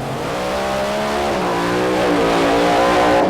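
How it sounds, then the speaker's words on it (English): A white Ford Probe drag car at Santa Pod in 1994, its engine revving hard and rough, loud and close with a steady rising drone. "a car sounding really sick was Bernie Hepworth's white Ford Probe"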